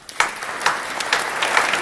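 An audience at a Hindi kavi sammelan poetry gathering claps to welcome a poet, a dense, even patter of many hands with a few sharper claps standing out.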